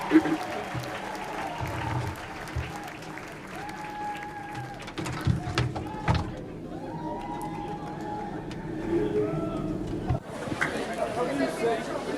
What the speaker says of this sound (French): Please clap your hands for young leaders